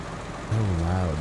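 A fuel truck's engine in the video game Snowrunner drones low and steady, swelling into a louder rumble halfway through, with a faint voice underneath.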